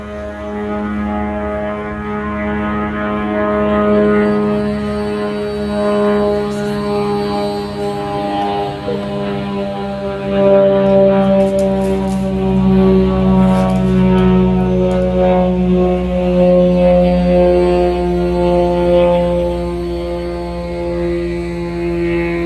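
A propeller airplane drones overhead during outdoor gardening work, a steady low humming roar that holds for the whole stretch and swells slightly midway, with no voices.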